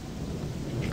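Rain and rolling thunder in the video game Gothic, a dense, continuous wash of rainfall under a low rumble, loud and steady throughout.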